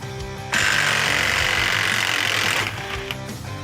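A LMlava LM240 cordless impact wrench fitted with a 24 mm socket hammers loudly for about two seconds as it tightens, a steady rattling burst rising from a quieter mechanical background and then cutting off.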